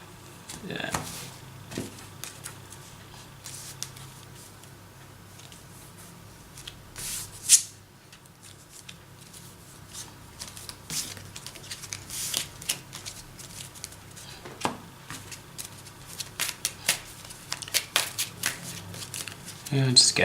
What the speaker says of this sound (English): let's shuffle this back up again